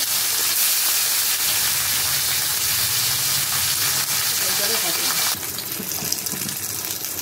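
Lemon-juice-coated fish frying in oil in a kadai gives a loud, steady, close sizzle and hiss that stays dense throughout, turning brighter and sharper near the end.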